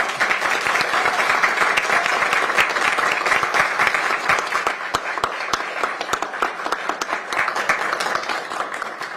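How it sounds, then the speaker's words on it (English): Steady, dense applause fills the Pierce County Council chambers for Greg McClellan's retirement, many hands clapping loudly and evenly throughout with no talk over it. "Let's give him a round of applause"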